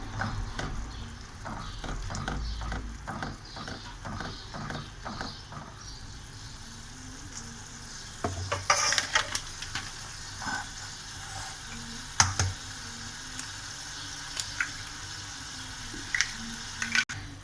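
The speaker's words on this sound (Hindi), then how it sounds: "मसाला भून लें, थोड़ा सा और भून लेंगे।" Masala and raw onion frying in a pan for egg masala biryani, giving a steady close sizzle with rhythmic stirring scrapes at the start. Later the frying settles into a softer hiss broken by occasional sharp clatters, with no speech.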